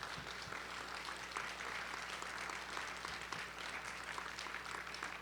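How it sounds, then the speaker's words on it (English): Audience at a policy briefing applauding a team, a dense, continuous patter of clapping held at an even level throughout, fairly faint and distant. "Let's give them a round of applause."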